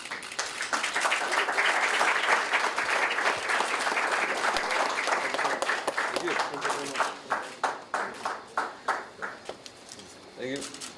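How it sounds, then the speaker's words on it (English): Sustained audience applause at a charity event with Fiji's Attorney General as chief guest, a dense crowd clapping for several seconds before thinning into scattered individual claps near the end. "please, another big round of applause"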